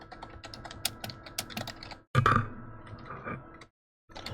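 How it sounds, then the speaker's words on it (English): Fast clicking keystrokes on a computer keyboard, a busy run of taps, then a brief louder clatter and a short pause before typing resumes, close and alone without speech. "I need a keyboard where I can actually see what words I'm typing."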